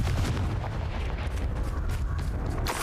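Confringo fire spell blasting in Hogwarts Legacy combat, dense rumbling explosive booms and crackling impacts that run together loudly throughout, with one sharper burst at the end.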